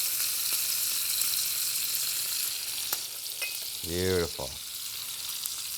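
Butter melting in a hot pan beside top sirloin steaks cooked from frozen, giving a steady loud sizzle and fry with a brief stirring clatter and one short spoken word over it.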